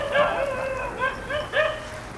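A pet dog named Jonkuttan barks out in the rain during a Malayalam stage drama, giving three or four spaced, fairly close barks over a steady hiss of rainfall.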